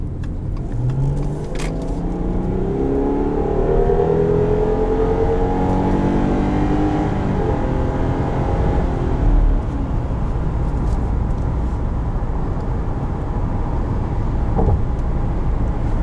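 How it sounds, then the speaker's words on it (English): A 2019 Subaru Legacy 3.6R's flat-six engine is heard from inside while driving. The loud, steady engine drone rises in pitch through several revving climbs and then settles into a constant cruising hum with road noise. "flat six, so it kind of sounds like a Porsche 911 up at the higher RPM"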